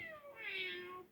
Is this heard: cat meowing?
yes